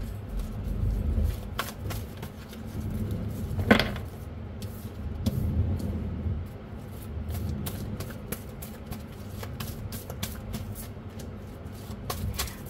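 Tarot cards shuffled and handled by hand in a quiet room, a steady run of soft papery riffles and flicks across the whole stretch with no talking.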